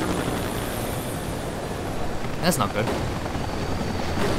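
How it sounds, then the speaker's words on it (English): Steady rotor drone and wash of a helicopter in the video game Max Payne 3, loud and constant throughout, with a man's short spoken remark partway through. "Oh crap, a helicopter"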